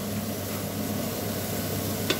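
Pre-boiled, partly frozen beef sizzling steadily in a frying pan, a close, continuous crackle with occasional stirring and no voices.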